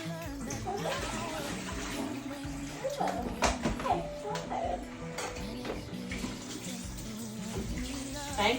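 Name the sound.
tap water running while washing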